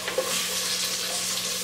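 Minced garlic sizzling in a pan for a peas and snap peas dish, a steady close hissing fry with a couple of soft stirring knocks at the start.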